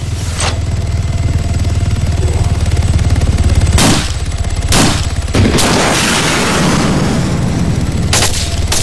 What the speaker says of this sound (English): See, this is what sucks about guided missile right now.